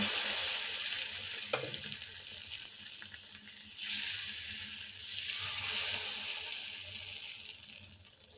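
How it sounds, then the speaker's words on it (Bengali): Rice-flour batter sizzles and crackles steadily in hot oil on a tawa. The frying is close and fairly soft, with a few brief clatters and swells and no talking. "তেলটা গরম হলে 2 হাতা করে ব্যাটার এর মধ্যে দিয়ে দিচ্ছি।"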